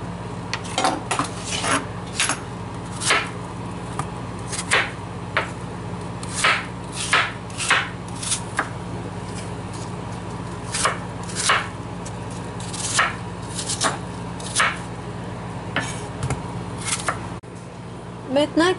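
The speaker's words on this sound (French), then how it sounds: "il va les couper en morceaux" Apples being cut into pieces with a knife on a board while making fruit ketchup: repeated sharp, irregular chopping strikes, close and distinct, with a voice talking in the background.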